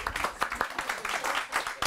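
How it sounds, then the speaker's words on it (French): Audience applause for Patrick at a hypnotherapy and brief strategic therapy conference, a short burst of scattered clapping from a room of people with uneven, lively rhythm. "Et donc, Patrick, qu'on va applaudir aussi"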